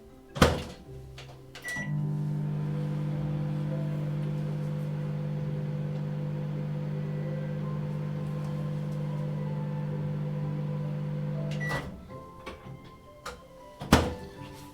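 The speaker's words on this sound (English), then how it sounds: "I'm gonna grab 2 more tortillas and quickly put them in the microwave." A microwave oven heats tortillas: a door clunk and button beep, then a steady low electric hum for about ten seconds, ending with a beep and the door popping open, all close and fairly quiet.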